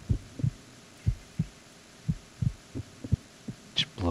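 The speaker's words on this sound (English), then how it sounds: "Once you recognize Ames by his heartbeat, keep the microphone pointed toward him." Steady heartbeat from the Metal Gear Solid 2 directional-microphone sequence, a rhythmic run of low thumping pulses under a faint hum, with a brief higher sound near the end.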